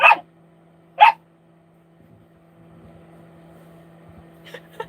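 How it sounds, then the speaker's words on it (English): Two sharp dog barks about a second apart, close and loud, followed by quiet low hum and faint rustling. "What are you barking at?"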